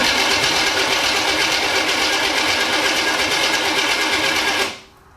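A freshly rebuilt engine cranks on its first startup attempt without firing, giving a loud, steady mechanical churn that continues for several seconds and then cuts off abruptly.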